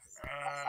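A sheep bleats once in a stop-motion animation, a short nasal wavering call close up, preceded by a brief soft thump, with no talk.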